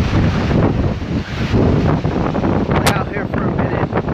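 A strong wind storm roars continuously in Whitewater, California, loud broadband buffeting of the microphone throughout, with no break.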